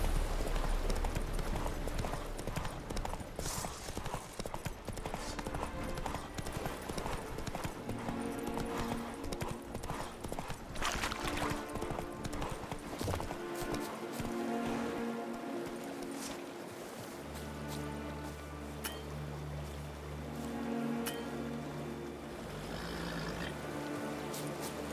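Hooves of Roach, a horse in The Witcher 3, clip-clop at a steady gallop throughout, with an occasional whinny and no talking.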